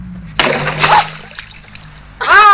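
Someone wades through water, with a couple of loud splashes close by and soft sloshing between them, and a voice calls out over the end.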